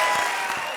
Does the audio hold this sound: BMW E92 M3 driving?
no